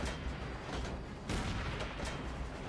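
Heavy cannon blasts from an Elefant tank in the video game Call of Duty: World at War, a loud boom near the middle with continuous rumbling gunfire around it.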